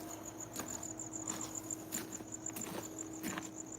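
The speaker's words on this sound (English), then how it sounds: "Do you guys hear the crickets?" Crickets chirp at night in a steady, high continuous trill, fairly faint and close-miked, with soft rustling and a few light thuds nearby and no talking.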